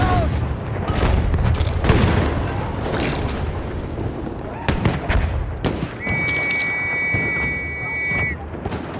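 Grenade blasts in Battlefield 1 amid a chaotic battle, with several booms and gunfire in steady noisy clatter, horse whinnies and shouting voices mixed in.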